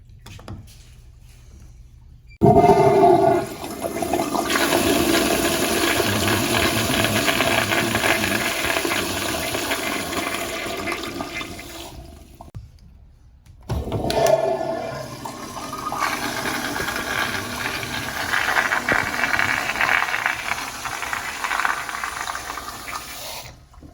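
A newly installed Sloan flush valve on a toilet flushes twice with a loud, close rushing surge of water, each flush running about ten seconds before tapering off, with a short quiet gap between them.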